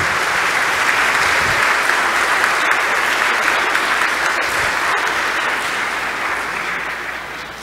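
A graduation ceremony crowd for the class of 2021 bursts into loud, dense applause that holds steady and fills the whole stretch, easing only slightly toward the end.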